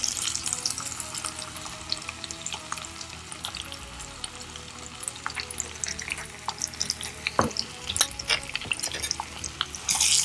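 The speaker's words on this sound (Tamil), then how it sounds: "இப்போ நம்ம இஞ்சி பூண்டு விழுது சேர்த்துக்கலாம்." Ginger garlic paste fries in a hot kadai for a Madurai-style kari dosa, sizzling steadily with crackles and spatters that grow busier toward the end, with no talk over it.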